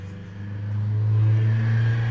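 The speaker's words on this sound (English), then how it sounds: "neighbor's car is pretty loud" A loud, low engine rumble from a nearby car, swelling slightly midway and holding steady without any talking.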